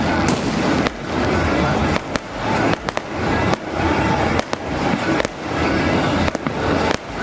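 Fireworks crackle and boom in the night sky during Makar Sankranti, with sharp bangs repeating at irregular intervals over a dense, continuous roar of distant bursts.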